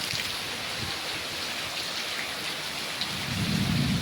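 Steady, heavy rain pours down in Ahmedabad throughout, with a deep rumble of thunder building toward the end.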